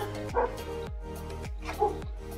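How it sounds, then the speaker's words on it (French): Dogs barking indoors at home, a quick series of about four sharp barks with whiny yips between, close and fairly loud. "Excusez-moi, toujours mes chiens."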